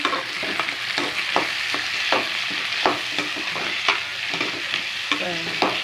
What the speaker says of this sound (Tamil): கொஞ்சம் நல்லா வதக்கிக்கலாம் தக்காளி வெங்காயம் வதங்குறதுக்கு